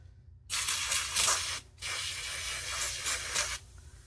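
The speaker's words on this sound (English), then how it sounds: "let's go ahead and spray it again." Two long hissing bursts from a SpotShot carpet stain remover spray, close up, separated by a brief pause, each steady and airy.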